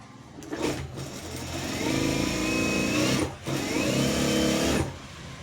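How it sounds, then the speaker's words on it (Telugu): Sewing machine stitching fabric sleeves with a half-inch seam margin, its motor whirring steadily and close by, with a short pause midway before running again and stopping near the end; no talking. "ఇప్పుడు హాఫ్ ఇంచి మార్జితోటి మనం దీన్ని స్టిచ్చింగ్ అనేది చేసేసుకోవాలన్నమాట"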